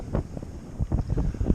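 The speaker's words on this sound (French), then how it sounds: "Le vent s'est levé un petit peu." Rising wind on a sailboat, short gusty buffets and rushing bursts against the microphone, close and fairly loud, with no one speaking.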